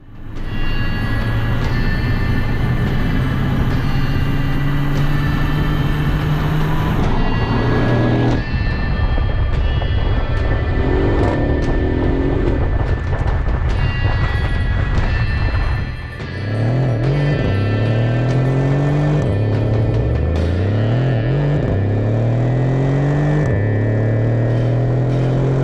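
A Mercedes GLE 63 AMG with a turbocharged engine roars loudly up through the revs, holding steady tones before a drop, then repeated upshifts with rising sweeps and sharp crackles.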